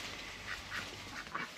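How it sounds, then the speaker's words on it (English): Ducks quacking in a backyard orchard, several short nasal calls spaced irregularly at moderate distance over a low outdoor background. "There are 6 ducks who will go in and say hello to."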